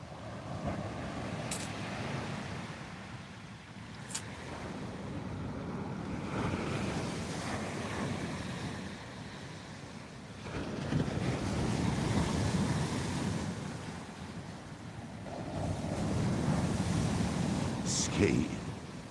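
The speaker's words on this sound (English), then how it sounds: "Definitely getting a good noise of the sea tonight, I bet." Sea waves and wind at night swell and fade in slow surges, rolling surf mixed with gusty wind buffeting the microphone, with a couple of brief higher clicks.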